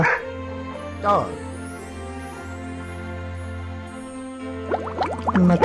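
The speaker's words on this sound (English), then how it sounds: "कुत्ता, Dog," A dog yips and whimpers in short bursts near the start and again toward the end, over a steady low musical hum.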